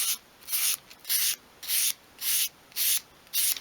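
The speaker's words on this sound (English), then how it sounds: "using your fine grade sandpaper, just sweep it along at a sort of 45-degree angle along the top of the front edge" Fine grade sandpaper sweeps along the front edge of small 1/12th scale dolls house wood, bevelling it: seven evenly spaced, close scratchy strokes with short quiet gaps between them.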